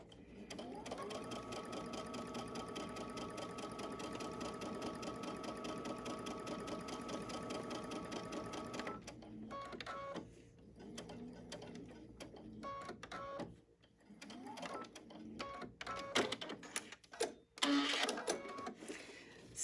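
A sewing machine stitches a box corner bag in a steady, continuous mechanical whir for about nine seconds, then stops for scattered handling noises and fabric rustles.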